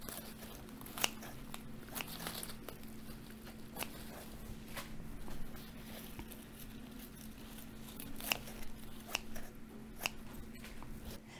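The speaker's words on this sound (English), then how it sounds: "So to harvest, I just cut them all off at the base." Homegrown lettuce in an indoor grow room is cut off at the base, giving faint, crisp snips and crunchy cuts at irregular intervals over a quiet background.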